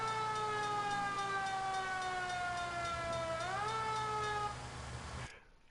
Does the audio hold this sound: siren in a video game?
yes